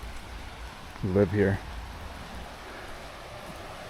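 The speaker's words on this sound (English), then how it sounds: "At least the rain is not too bad." Rain falls outdoors at alpine WW2 ruins on the Italy-Austria border, a steady soft hiss that runs through the whole stretch, with a short burst of nearby talk partway through.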